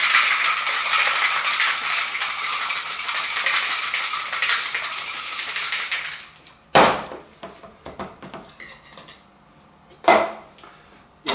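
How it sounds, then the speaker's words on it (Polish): Cocktail ingredients of apricot brandy and gin shaken hard in a shaker, a loud continuous rattle of ice for about six seconds, followed by a few sharp metallic clinks. "Składniki energicznie mieszamy w shakerze."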